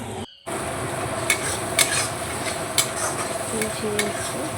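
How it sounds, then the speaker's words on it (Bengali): Spiced masala with coriander leaves is stirred in a hot pan, a continuous loud sizzle punctuated by several distinct spoon scrapes and knocks against the metal, after a brief silent gap at the start. "মশলাটাকে আগে দিয়ে একটু কষে দেবো, পরে না আবার আগে একটু দেবো। ধনে পাতাটা দিয়ে নাড়াচাড়া করে"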